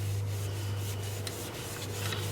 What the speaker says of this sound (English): I'll just sand that up real quick